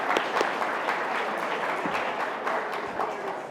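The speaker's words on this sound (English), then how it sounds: "Give them both a nice round of applause." An audience at an innovation debate gives a warm round of applause to the two debaters, a dense, steady wash of many hands clapping that fills the room for several seconds.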